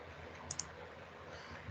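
Two quick, faint mouse clicks sound over a quiet hiss while parts are placed in circuit simulator software.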